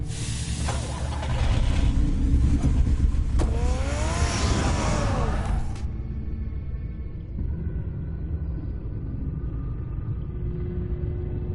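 Batman's car in a video game drives steadily, its engine rumbling loud and continuous, with a brief rising whine midway, then settling into a lower, steady hum.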